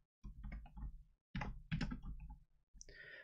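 Someone types on a computer keyboard nearby in quick, uneven bursts of clicks, separated by brief pauses.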